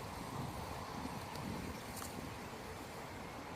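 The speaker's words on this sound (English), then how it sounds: "it's very windy out here" Strong wind rushes outdoors in an open area, a continuous buffeting roar across the microphone that holds steady with slight surges.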